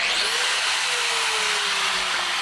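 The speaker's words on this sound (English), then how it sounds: "We want you to polish on the lowest speed setting of the rotary you have." Rotary car polisher running steadily at its lowest speed setting on a paint surface, a continuous close whirring motor drone with a slowly falling tone and no talking.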